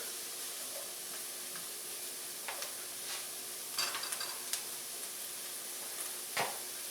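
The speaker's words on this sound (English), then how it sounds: "there's something so simple, but yet so good about just sauteing onions" Onions sautéing in a pan, laid out in a single layer, hiss with a steady close sizzle broken by a few scraping stirs and light clinks, with no talking.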